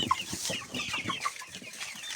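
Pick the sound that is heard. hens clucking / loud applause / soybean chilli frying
hens clucking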